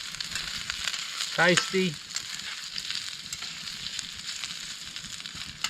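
Food sizzles and fries steadily in a pan on a Snow Peak camping stove, a continuous crackling hiss throughout with a brief voice speaking near the middle.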